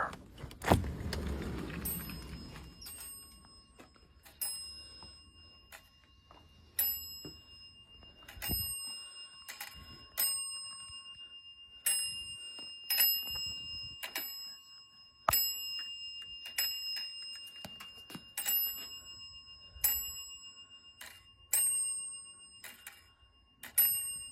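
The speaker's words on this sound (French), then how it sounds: "le téléphone continue de sonner, alors qu'il n'y a plus aucune alimentation électrique de connectée" An old telephone, disconnected from all power, rings on its own with repeated sharp metallic bell trills in regular bursts, clear and close in a quiet room.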